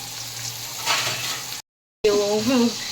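Onions frying in hot oil for Telangana-style fish pulusu, a steady close sizzle with stirring, broken by a brief cut, then sizzling again under a voice.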